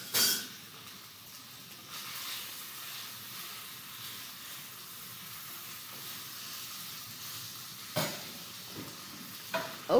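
Lunch frying in a pan on a home stove, with a steady sizzling hiss throughout and brief scraping clatters of stirring near the start and end, no talking.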